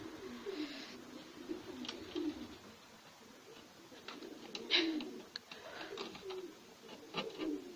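Soft, low pigeon coos repeat throughout, some overlapping, with faint rustling and wing flutters in a quiet space.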